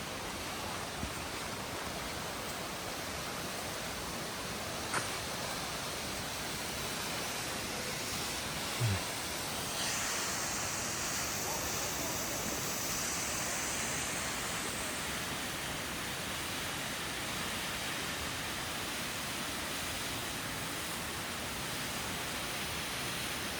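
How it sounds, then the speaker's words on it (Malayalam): Jogini waterfall near Manali, Himachal Pradesh, rushes in a constant broad roar, unvarying and enveloping, with no voices over it. "ഈ മലയിൽ നിന്നാണ് വെള്ളച്ചാട്ടം വരുന്നത്."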